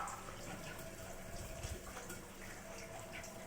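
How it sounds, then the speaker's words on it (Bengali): A small splash of water poured into food as it cooks, a soft, faint trickle over a quiet background. "এই জাস্ট একটুখানি জল অ্যাড করলাম, একটু ভিজা ভিজা হবে"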